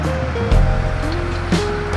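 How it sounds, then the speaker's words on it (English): Heavy excavator grading on a construction site, a steady low engine rumble with tonal hum and a couple of louder clanking bursts, fairly close and continuous without talk. "behind me, you can hear the excavator"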